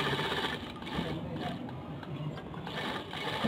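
Sewing machine stitching around a pocket on a salwar, a steady fast mechanical whirr and rattle running continuously at moderate level, close by.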